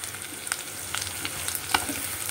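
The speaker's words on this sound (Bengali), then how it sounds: "এবার এই পেঁয়াজ, ক্যাপসিকাম আর কাঁচা লঙ্কাটা আমি এখানে দিয়ে দেবো। এই আলুর সাথেই আরও একটু করে ভেজে নেব।" Onion, capsicum and green chili sizzle and fry in hot oil with potatoes, a steady crackling hiss with a few stirring scrapes, close and unbroken, with no talking.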